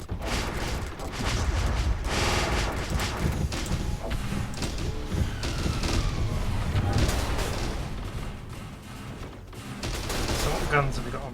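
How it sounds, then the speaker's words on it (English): Advanced rail guns fire in a StarDrive space battle: a dense, continuous fusillade of rapid mechanical bursts and booms, loud and sustained under occasional speech. "the advanced rail guns"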